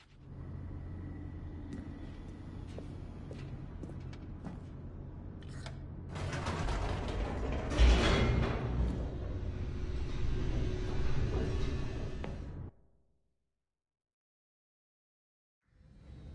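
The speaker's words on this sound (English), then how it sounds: "The elevator raced downward, plummeting towards an unknown fate." An elevator descending in The Stanley Parable: a low mechanical rumble with creaks that grows louder and harsher midway, then cuts off abruptly into silence, with no talk.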